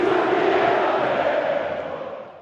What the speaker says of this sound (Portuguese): Já pensou em ouvir esse grito da torcida rubro-negra aqui em Orlando, na Flórida?